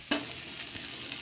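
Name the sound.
jackfruit seed appam frying in a pan with little oil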